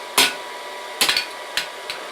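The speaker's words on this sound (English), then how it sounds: "drive the leaf petals downward over the edge of the anvil, along the flower petal lines" Hammer strikes on hot steel leaf petals over an anvil edge: four sharp metallic blows, one of them a quick triple rebound, close and ringing over a steady background hum.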